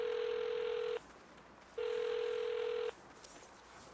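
A phone call ringing inside the video game Saints Row: two long electronic ring bursts with a pause between them, clear and steady over quiet game ambience.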